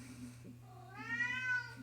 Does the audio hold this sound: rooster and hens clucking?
no